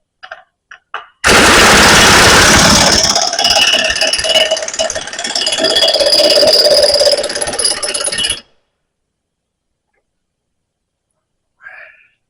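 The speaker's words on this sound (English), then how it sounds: "Okay, so we're going to hammer this on." Rapid metallic hammer blows drive a lock nut onto a flipper cylinder in a fast, continuous burst for about seven seconds, loud and close, with a few isolated knocks before and one after.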